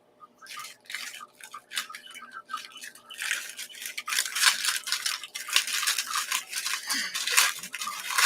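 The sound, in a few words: crinkling a bag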